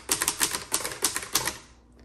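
Keys struck hard on a 1954 Hermes Rocket portable typewriter, a quick run of about a dozen crisp, close mechanical clacks in an uneven rhythm, heard alone.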